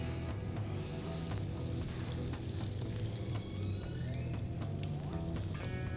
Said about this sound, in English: So as our oil is hot enough, and we are going to be putting our jalapeno poppers